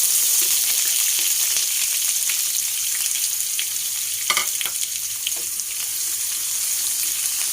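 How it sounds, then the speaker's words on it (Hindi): Onions frying in a pan for chana dal, a loud, steady, dense sizzle close up with a few brief stirs and clinks partway through. "ये थोड़ा सा इसमें भून गया है तो प्याज डालती हूँ"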